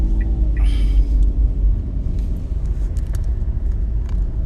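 A small Daihatsu KG12 van rumbles while driving, a steady low engine and road drone close by, with a few faint clicks and brief higher noises over it.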